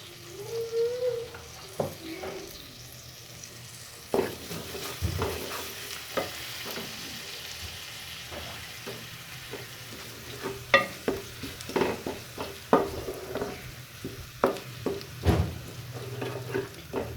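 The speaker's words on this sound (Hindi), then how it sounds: "लहसुन जो था उसको हमने ऑयल में अच्छे तरीके से मिक्स कर लिया है, फ्राई कर लिया है" Garlic paste sizzling and frying in hot oil, with intermittent scraping and stirring clatter from a utensil against the pan, no voices.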